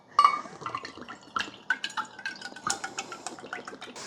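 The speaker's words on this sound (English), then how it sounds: "And then we'll go in with a cup of milk." Organic whole milk is poured into chia pudding, with soft liquid splashing and a few light clinks of a cup or utensil against a bowl, close and fairly quiet.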